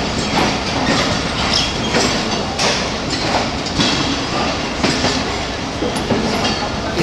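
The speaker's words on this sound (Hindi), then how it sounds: "और बाला फिर तवील इंतज़ार के बाद 10 डाउन अलामा इकबाल एक्सप्रेस" The 10 Down Allama Iqbal Express pulls out of Lahore Junction station, a loud, dense and continuous rumble of rolling wagons close by, with faint rhythmic wheel clatter running through it and no talking.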